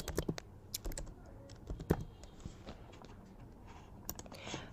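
Typing on a computer keyboard while building a website layout in Figma, a quick run of close, light clicking keystrokes in uneven bursts with no talk.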